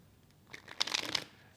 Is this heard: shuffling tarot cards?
yes